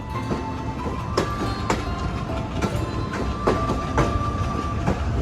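The Benapole Express intercity train rushes past close by a commuter train near Kushtia, a loud steady roar with rhythmic clickety-clack wheel beats and sharp rail clicks repeating through the passage.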